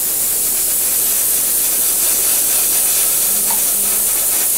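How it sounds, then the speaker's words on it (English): A spray gun spraying rust-colored acrylic paint hisses continuously and loudly, a steady airy spray that keeps going without a break. "we just kind of lightly spray our rust color on it"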